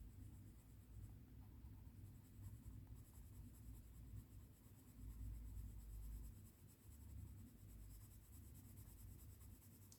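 Wax pigment pencils coloring on paper, a soft continuous scratchy scribbling close up, very quiet, with slightly stronger strokes in the middle, no talk.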